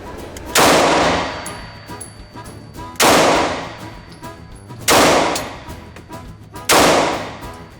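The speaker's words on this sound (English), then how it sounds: "take 10 shots using the original guide rod and spring with some Winchester White Box 115 grain ammo" Four loud, sharp pistol shots from a SCCY CPX-2 firing Winchester White Box 115 grain ammunition, spaced about two seconds apart, each with a short ringing decay and no talk.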